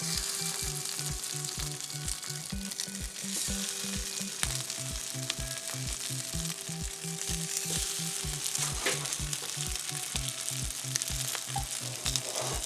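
Plant-based beetroot burger patties fry in hot oil with a steady, close sizzle and crackle, and a regular rhythmic knocking runs beneath it the whole time, with no talk.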